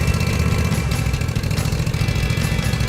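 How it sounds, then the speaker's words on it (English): The engine of a DuraShine machine runs at a steady, loud idle close by, with a constant low rumble and mechanical clatter and no other sounds. "With the key in the ignition and the throttle on idle, fire up the engine."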